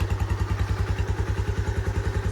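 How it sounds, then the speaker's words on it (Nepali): A motorcycle engine idles as it warms up, its rapid, even thumping pulses loud and close, with no voices. "अनि बाइक हल्का वार्मअप भए"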